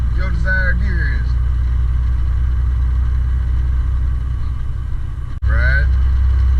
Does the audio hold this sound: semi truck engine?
yes